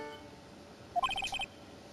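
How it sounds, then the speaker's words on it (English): A short electronic phone ringtone plays in the courtroom game Ace Attorney: Trials and Tribulations: a quick run of bright, evenly spaced synth beeps, clear and alone over a quiet backdrop. "What kind of ringtone is that?"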